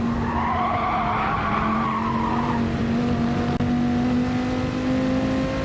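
Onboard sim race car in a CRT championship round driven hard at the limit, a steady engine drone with tire scrub and skidding squeal throughout, loud and close with a brief dip near the end.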